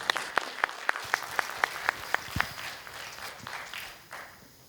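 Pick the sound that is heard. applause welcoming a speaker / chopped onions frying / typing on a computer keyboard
applause welcoming a speaker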